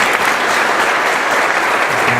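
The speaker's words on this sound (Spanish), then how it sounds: "para quien pido un fuerte y caluroso aplauso" Sustained applause from a seated audience greeting an official guest at a book presentation in Tecámac, a steady loud wash of clapping throughout.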